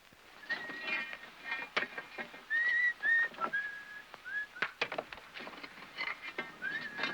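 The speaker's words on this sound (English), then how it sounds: "Hey, cut out that whistling." A man whistles a short, wavering tune in a film Western, the notes rising and falling over a busy background of hooves, clatter and rustling, fairly close and moderately loud.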